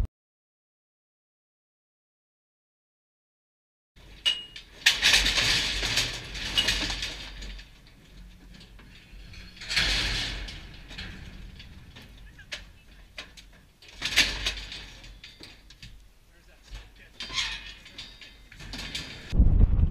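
Metal self-latching gate on a bison handling setup, swung shut and latched by hand in separate bursts of clanking and rattling after a few seconds of silence, fairly close and moderately loud.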